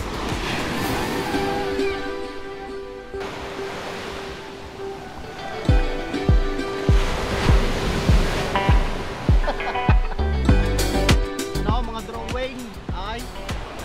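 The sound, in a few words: sea waves at the beach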